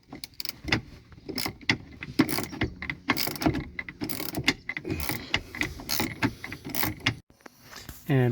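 A 15 mm seatbelt bolt on a Lincoln Blackwood being backed out with a ratchet, rapid close clicking in bursts mixed with metal knocks and handling noise, no speech.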